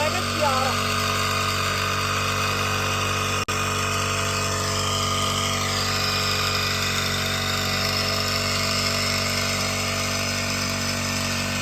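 An engine-powered crop spray pump drones steadily in a maize field, with a constant, close mechanical hum that holds unbroken throughout, a voice speaking at times over it.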